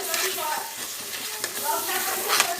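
Mustard and coconut paste frying in white oil for a prawn malai curry, stirred in a pan over a high gas flame; a steady close sizzle with the scraping swish of stirring throughout, no voices.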